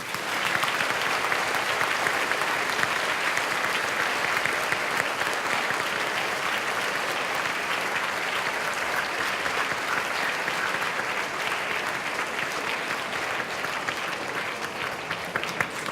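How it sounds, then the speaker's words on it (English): Sustained applause from a school audience for the sports captains at a prize presentation, a dense steady clatter of many hands lasting throughout, fairly distant and even. "please join me in a great round of applause for all the captains"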